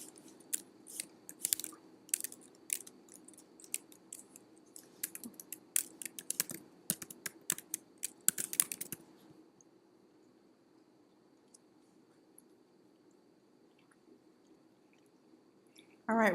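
Keys on a computer keyboard are tapped in quick, irregular bursts for about nine seconds, then the typing stops and a faint quiet hum remains.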